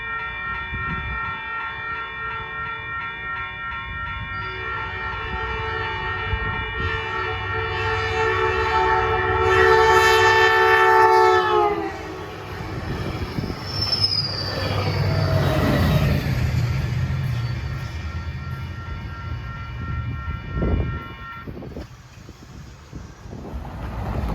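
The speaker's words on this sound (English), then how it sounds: "Here comes train 309 from San Jose to San Francisco, a limited stop train." Caltrain train 309, a limited-stop run from San Jose to San Francisco with Bombardier cars, sounds a long sustained horn as it approaches, then roars past loudly with rushing wind and wheel noise that fades away.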